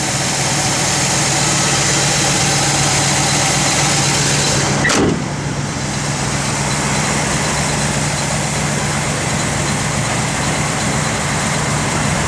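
A 1967 Pontiac GTO with a 400 engine idles up close, a loud, steady rumble that holds its pitch, with one brief click partway through.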